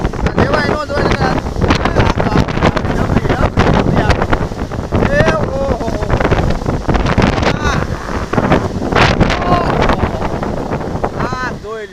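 Strong storm wind roars continuously through a village, buffeting the microphone with loud, gusty rumble and rustling debris, with a voice faintly heard now and then.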